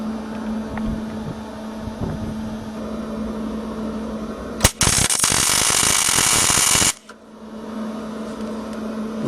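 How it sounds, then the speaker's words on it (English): An electric arc welder set to its maximum 130 amps lays a short weld bead while lengthening a front-wheel axle, a loud steady crackling hiss lasting about two seconds against a low background hum. "So I set my welder to maximum 130 amps, and I'm ready to weld some bead right there."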